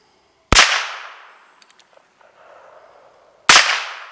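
.22 rifle shots fired at a pumpkin outdoors: two sharp, loud cracks about three seconds apart, each trailing off into a short echo, with faint clicks and handling noise between them.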